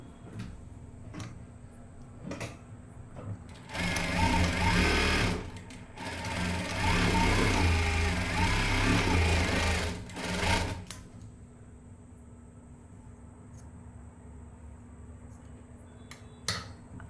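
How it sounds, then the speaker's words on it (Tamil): A sewing machine lock-stitches along a garment neckline finished with a bias cross strip, in two close, loud bursts of rapid stitching separated by a short pause, with quiet ticking handling sounds before and after. "நம்ம செகண்ட் ஸ்டிச் லாக் ஸ்டிச் போட்டு ஸ்டார்ட் பண்ணி நெக்லைன்லேயும் லாக் ஸ்டிச் பண்ணிக்கலாம்"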